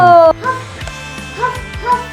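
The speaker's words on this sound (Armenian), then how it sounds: "Շուն։" A dog gives a few short, clipped barks and whimpering yips in quick succession, close and fairly loud, right after a brief tone at the start.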